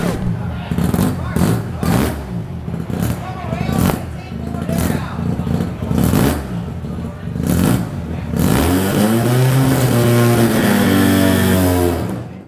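A person talks first. Then a 1979 Mazda RX-7 rotary race car at Thunderhill in a 24 Hours of Lemons endurance race revs up loud and close, its engine note rising and falling over several seconds.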